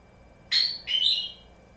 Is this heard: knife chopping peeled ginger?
no